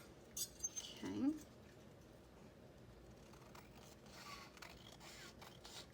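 Scissors trim dried napkin journal cards: a few quick, close snips and paper scrapes in the first second and a half, then a quiet room hush.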